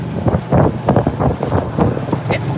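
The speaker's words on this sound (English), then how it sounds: "I think it's a little windy here." Gusty wind buffets the microphone on a golf cart ride near a bridge over Lake Sumter in The Villages, Florida, rising and falling in rough bursts with a voice talking over it.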